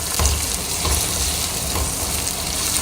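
Onions sizzle and crackle steadily in a hot pan, a close, continuous frying hiss with a few brief bumps from stirring.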